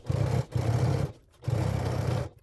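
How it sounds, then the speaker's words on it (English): A sewing machine stitches a 3/8 seam across crossbody bag panels in two close, steady whirring runs, each about a second long with a short pause between, and no talking. "we're going to stitch a 3/8 seam allowance going across, making sure to back stitch at the beginning and the end."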